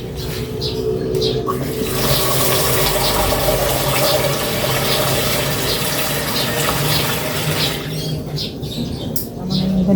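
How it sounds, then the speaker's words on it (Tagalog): Water poured into a cooking pot after sautéing, giving a steady, loud gushing and splashing rush that runs throughout with little change, faint voices audible beneath it. "Lalo ko ng tubig muna."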